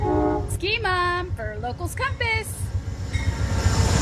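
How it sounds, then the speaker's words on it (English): Low steady rumble of the Amtrak Empire Builder train rolling between Seattle and Chicago, a continuous ride noise under someone talking close by. "I'm on the Empire Builder, which is a train that is on its way to Chicago."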